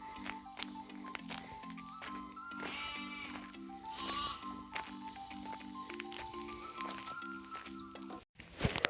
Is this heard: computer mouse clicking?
no